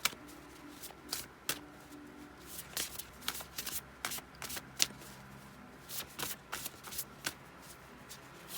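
A tarot card deck is shuffled by hand in repeated soft riffles and slides, close and fairly quiet, with brief sharp snaps as the cards fall together, no voices.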